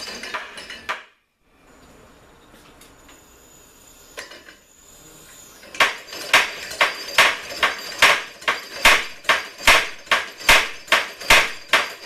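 A homemade belt-driven power hammer starts up and runs, striking in a fast, steady rhythm of loud metallic blows after a few scattered knocks and a brief pause.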